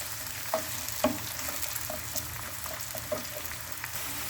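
Onions sautéing in a pan, a steady low sizzle with occasional soft utensil taps and stirring, heard close and fairly quiet.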